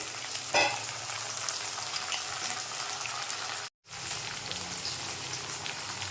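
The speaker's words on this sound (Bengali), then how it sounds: "পেঁয়াজ ভাজা ভাজা হয়ে গেছে, এবার আমি এর মধ্যে দিয়ে দেবো টমেটো" Tomato added to fried onions sizzles steadily in a pan, a close hiss with a brief clatter near the start and a short silent gap midway.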